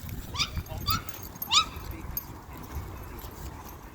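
Several dogs, a German Shepherd among them, at a dog park give short whimpers and yips in a few brief bursts, fairly near, over a rumbling outdoor background.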